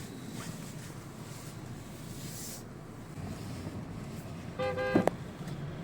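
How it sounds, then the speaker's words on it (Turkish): Outdoors in traffic near an industrial workshop area, a car horn gives a short burst of honks near the end over steady wind and road rumble, after several seconds of only background noise. "ne korna çalıyorsun"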